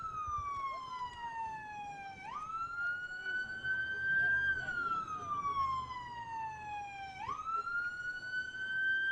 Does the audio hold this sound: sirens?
yes